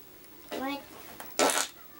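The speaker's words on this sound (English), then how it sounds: "That sounds so real fart." Two short squelching blasts of slime putty pressed into fart-like noises, one at mid-clip and a louder, wetter burst near the end, both close and standing alone over a quiet background.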